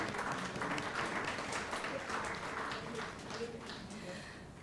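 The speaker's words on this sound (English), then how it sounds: "let's give her a warm round of applause" An academic lecture audience gives a warm round of applause to a retired history professor as she walks to the dais, heard as soft, fairly distant clapping with voices murmuring underneath.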